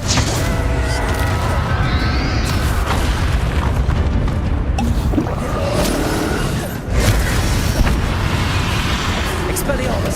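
Blasting-spell explosions in the Hogwarts Legacy video game, loud booming bursts over a dense, rumbling game soundtrack, with a noticeable fresh blast near the seventh second.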